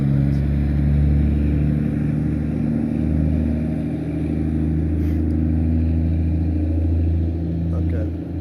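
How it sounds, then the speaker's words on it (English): A truck drives past on a road, a steady low engine drone and rumble that swells slightly and then eases as it goes by. "I'm gonna wait for this truck to go past"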